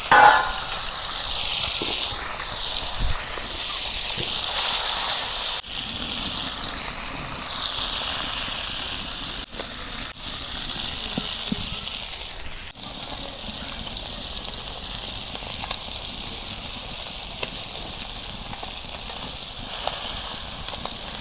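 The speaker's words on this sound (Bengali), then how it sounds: "তো আমি একেবারে মাছগুলো মশমশাকে ভাজুন।" Tilapia frying in hot oil in a home Bangladeshi kitchen, a steady loud hiss and sizzle that continues throughout, with a few sharp clicks and bumps from the pan along the way.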